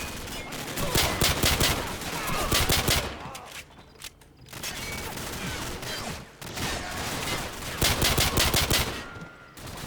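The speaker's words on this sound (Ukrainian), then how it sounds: "Доведеться одним пістолетом стріляти." Rapid bursts of pistol gunfire from Call of Duty 4: Modern Warfare crack out in several volleys, loud and close, separated by brief lulls.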